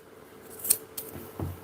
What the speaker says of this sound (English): This is not even my scissors. I'm gonna cut the excess that I have remaining.